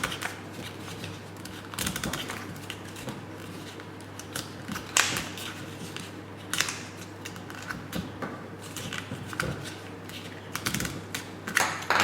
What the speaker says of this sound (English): that's one turn of paper that I pleated down now